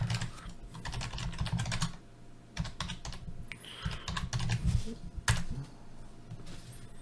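Rapid typing on a computer keyboard, close and fairly quiet, with bursts of clicking keystrokes separated by short pauses.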